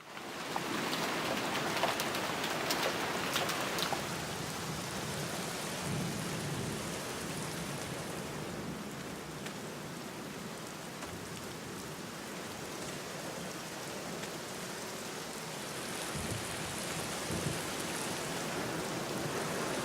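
Rain falls steadily in the video game The Black Mirror, a constant hiss of drops on surfaces with a low rumble underneath, evenly loud throughout and with no voices.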